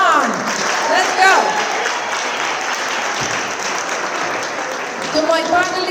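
An audience claps for panelists walking onto the stage at a women-in-AI leadership conference, a steady wash of applause with a few voices and whoops rising through it.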